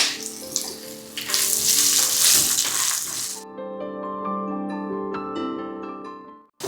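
Potatoes dropped into a hot pan hiss loudly at first, then settle into a softer, steady frying sizzle that fades out near the end, heard up close with no talking.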